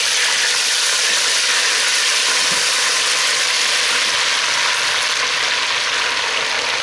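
Sliced onions sautéing lightly in a pan while a mixed vegetable dish is being cooked, giving a steady, close, even sizzle with no talk.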